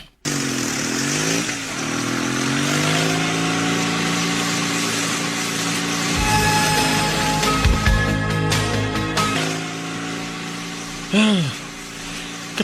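Motorcycle engine drones steadily and fairly close, with pitch rising and falling as it rides along, underneath a voice talking. A sharper passing whine is heard near the end.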